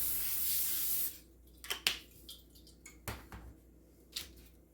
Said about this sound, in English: I'm going to go ahead and lightly spray.